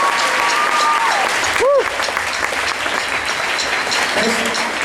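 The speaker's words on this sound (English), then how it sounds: "So a big round of applause for Matt." Loud, sustained applause fills a high school gym at a drum event, a dense roar of many hands with a brief voice and a whistle-like cry rising above it.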